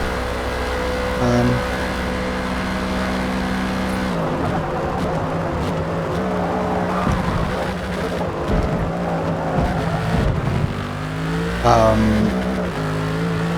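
Mercedes GT3 race car engine in the Forza racing game, a loud continuous roar that rises and falls through gear changes and revving, with a brief higher-pitched whine near the end.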